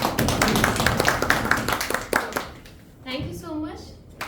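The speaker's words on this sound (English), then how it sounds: "Thank you for clapping." Audience applause at a speaking club meeting, a dense patter of hand claps for about two and a half seconds that fades out, followed by a person speaking.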